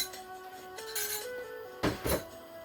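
A metal cooking pan set down on a stove burner while making Tamil cauliflower curry: two quick, close clanks near the end over a steady tonal background.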